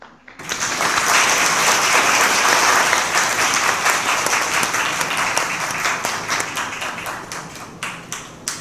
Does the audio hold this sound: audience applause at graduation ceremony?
yes